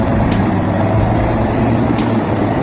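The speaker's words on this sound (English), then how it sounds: "These are the logging trucks, the lifeblood of the forestry industry here." Logging trucks on the rugged roads of Durango make a loud, close, continuous engine rumble and road roar, with a couple of brief hissing bursts.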